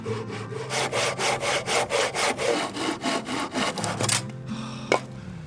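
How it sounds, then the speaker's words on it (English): A handsaw cuts through wood during a small stone house renovation, with steady rhythmic push-pull strokes, loud and close, about a dozen in a row before a pause and a knock. "So having to do it with the handsaw awkwardly,"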